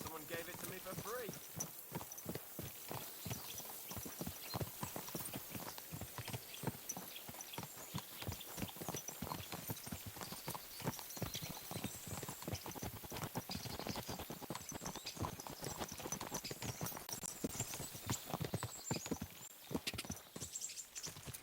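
Horse hooves from the video game Kingdom Come: Deliverance II clip-clop in a steady, fast rhythm as a young horse travels, close and continuous throughout, with people talking over the hoofbeats.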